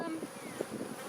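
Dense, continuous buzzing of many honeybees inside a packed hive box, a steady close drone with small swells and flickers as individual bees pass near.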